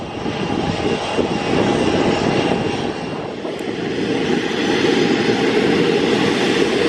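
An Airbus A321neo takes off from Luton Airport on a summer evening, its jet engines roaring loud and steady throughout, a broad continuous rumble that swells slightly toward the end.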